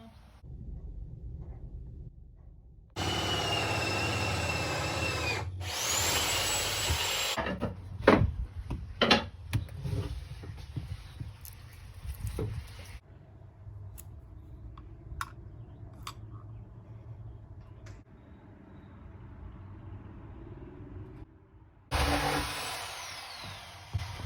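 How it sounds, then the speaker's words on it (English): A power drill whirs in short bursts between quieter stretches of scraping, tapping and clicks while building a tiled shower in a shuttle bus, with a final drilling burst at the end. "I'm just drilling, not really saying anything. Just gonna drill the corners down to space."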